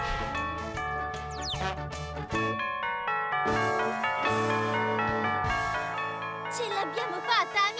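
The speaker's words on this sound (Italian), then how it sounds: "Abbiamo oltrepassato la torre delle campane scampananti!" Bright bell tones from a bell tower in a children's cartoon ring out in a busy, overlapping cascade over music, with a voice speaking through it.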